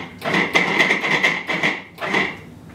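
Food processor pulsing flour, salt and baking powder for biscuit dough: several short motor bursts in quick succession, each a loud whirring pulse with brief gaps, close by and without talk.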